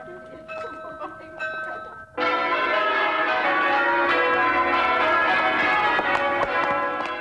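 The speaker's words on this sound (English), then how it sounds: "Bells of St. Peter Mancroft loudly pealing fill the whole city with an Easter feeling" Church bells of St. Peter Mancroft pealing on Easter, a quieter ringing first, then a loud full peal bursting in and sustaining dense, overlapping strikes close and continuous to the end.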